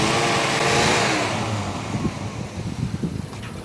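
A 1986 Ford Mustang 5.0 V8 convertible with a rotting body runs loud and close, its engine revving then dropping back into a lumpy, uneven idle with sputtering pulses.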